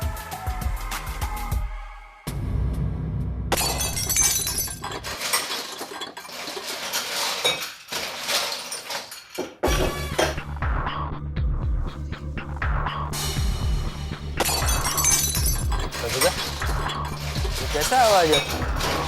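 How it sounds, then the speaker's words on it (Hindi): Kitchen utensils fall and clatter in a home kitchen on a TV sitcom set, with repeated metallic and glassy clinks and crashes in bursts, mixed with throbbing background sound over several seconds. "किचन से बर्तन गिरने की आवाज आ रही है।"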